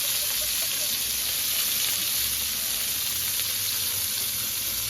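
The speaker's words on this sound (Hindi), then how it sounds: "अब इसी ऑयल को मैंने दोबारा हल्के से गर्म करके उसमें इस प्याज को डालना है" Onions frying in reheated cooking oil for a gola kabab dish, a steady close hiss and sizzle that holds evenly throughout with no voices.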